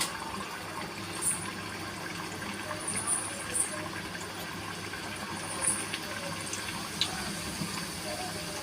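Puris made from a five-flour mixed dough deep-frying in hot oil, giving a steady broadband sizzle and bubbling with a few faint clinks over it, no talk.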